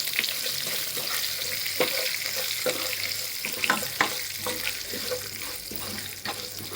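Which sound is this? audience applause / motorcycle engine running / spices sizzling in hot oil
spices sizzling in hot oil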